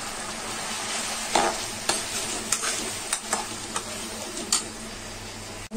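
A spoon stirs and scrapes a paneer filling with soy sauce in a hot pan, making a steady sizzle broken by several sharp, close clicks of metal on the pan, with no voices.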